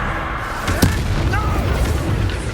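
A Bombarda explosion spell goes off in Hogwarts Legacy as one sharp, loud blast, followed by a rumbling tail over continuous game ambience.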